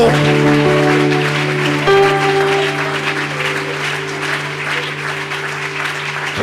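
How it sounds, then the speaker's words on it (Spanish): Church congregation applauding in worship, clapping that is loud and continuous under sustained organ or keyboard chords, heard close for several seconds. "Dele ese aplauso al Señor, hermano."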